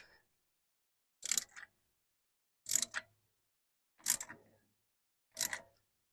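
Four short, separate mechanical ratcheting clicks, evenly spaced, come from a brake caliper piston being wound back on its threaded shaft during a rear brake job on a Chrysler Town and Country; quiet and close, with silence between.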